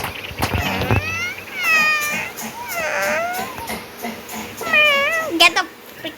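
A cat meows repeatedly and loudly nearby, with several drawn-out, rising and falling calls over a few seconds, while people talk and move around in the background.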